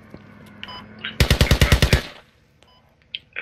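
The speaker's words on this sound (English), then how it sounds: "I heard gunshots this way" Machine gun fire in a squad shooter game: a rapid burst of about ten loud, sharp shots lasting close to a second, with faint game ambience and small clicks before and after.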